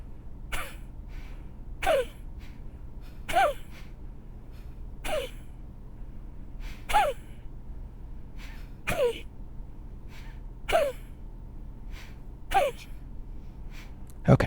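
Kapalbhati pranayama breathing: about eight sharp, forceful nasal exhalations spaced roughly every one and a half to two seconds, each a short puff of breath over a quiet room hum, with passive silent inhales between.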